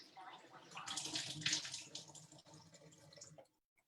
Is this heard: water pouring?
yes